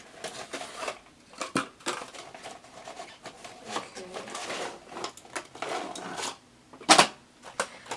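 Hard Candy lip kit packaging is handled and opened with quiet crinkles, taps and small clicks scattered irregularly, including one sharper snap near the end, with soft talking underneath.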